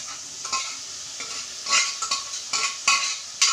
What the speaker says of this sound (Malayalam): ബോയിൽ ചെയ്ത് വെച്ചിരിക്കുന്ന ബീഫ് ഇതിലേക്ക് ചേർത്ത് കൊടുക്കുക.